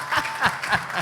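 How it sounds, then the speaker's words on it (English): Audience clapping for a caddie at a live golf event at Indian Hills Country Club, a short burst of steady, fairly close applause with no voices over it. "big round of applause for Doughboy."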